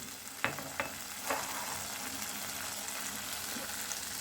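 Paneer posto gravy simmers and sizzles steadily in a pan as a little milk is poured in, with a few sharp stirring clinks early on and a continuous bubbling hiss throughout.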